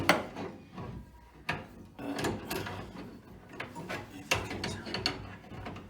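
Screws being tightened on a Salamander S flange fitting for a shower pump give off a run of close, dry ratcheting clicks and small mechanical scrapes, with short bursts and pauses, and no talking.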